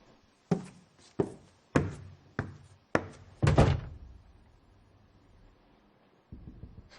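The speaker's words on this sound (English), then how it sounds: "Whence is that knocking?" Heavy knocking on a door in a Macbeth audio drama: six loud, evenly spaced thuds, the last one booming and echoing. After a short quiet, a fainter knock follows.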